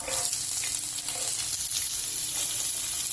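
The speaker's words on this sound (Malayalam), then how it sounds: "ഇതിലേക്ക് ഒരു പകുതി സവാള ചെറുതായി മുറിച്ച് ചേർക്കാം" Chopped onion sizzling in hot oil with whole spices and bay leaves for a dhaba-style soya chaap masala, a continuous close frying hiss with faint stirring scrapes and no voices.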